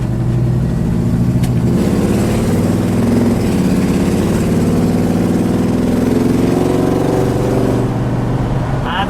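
A 1979 Dodge Li'l Red Express pickup with a 360 V8 rumbles loudly through its exhaust stacks while driving a short straightaway, a steady deep engine drone that swells slightly as it pulls along, with no talk over it.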